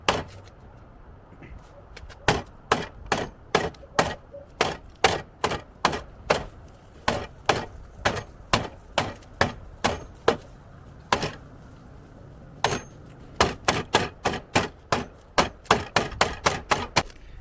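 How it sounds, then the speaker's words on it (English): Hammers striking and chipping Bondo body filler off Infiniti Q60 body panels: sharp, loud, close knocks in rapid irregular bursts, with a brief pause midway before a faster final flurry. "go ahead and pick this stuff off and hit it with a couple hammers"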